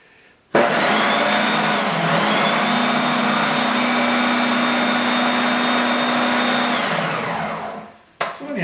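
A food processor whirs loudly and steadily as it purees chickpeas and garlic into hummus, starting abruptly, holding a sustained motor drone for several seconds, then winding down and stopping.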